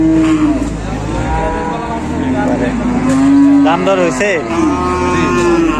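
A water buffalo at the Manipura cattle market lets out deep, drawn-out moos close by, one after another over steady crowd noise, while people talk and haggle.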